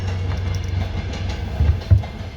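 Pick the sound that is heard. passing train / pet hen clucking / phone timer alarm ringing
passing train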